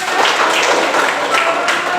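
Students in a classroom clap together for their classmates, a steady dense patter of many hands lasting throughout without pause.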